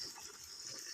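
Pumped water gushing steadily into a pond, a continuous hissing flow with no pauses and no voices.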